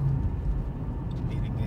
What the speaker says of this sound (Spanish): Ah, viene un carro.